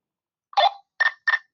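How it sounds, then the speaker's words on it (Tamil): A phone rings in a video game: three short electronic ringing bursts, the first longer and the next two quick and closely spaced, against silence. "யாரோ ஃபோன் அடிக்கிறான்"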